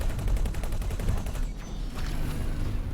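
Spaceship cannons fire in rapid sustained bursts during a capital-ship battle in the space game X4: Foundations, a dense, continuous barrage of overlapping shots with no voices.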